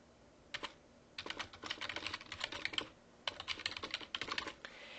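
Computer keyboard keys typed in quick bursts with short pauses between, close and clear, entering a name and an email address, with no talk.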